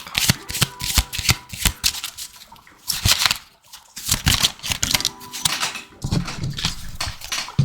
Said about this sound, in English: I'm going to grab a few more cards